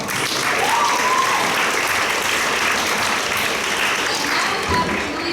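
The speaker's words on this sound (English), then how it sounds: "Applaud the poet, not the point." An audience at a high-school spoken word poetry slam claps for a poet, steady and full applause filling the room throughout with no pauses.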